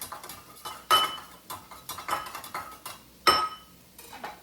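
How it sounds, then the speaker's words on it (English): Four eggs being mixed in a bowl, a quick run of light clinking taps from a utensil against the bowl, close and fairly quiet, with a few sharper knocks. "Mix them up."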